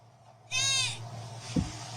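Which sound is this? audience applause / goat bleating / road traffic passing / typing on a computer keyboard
goat bleating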